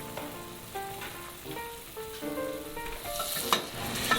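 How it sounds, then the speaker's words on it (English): Butter sizzling as it melts into olive oil in a frying pan, a steady crackling fry with faint stirring scrapes and background hum throughout. "Now I'm melting 3 tablespoons of butter into 3 tablespoons of olive oil"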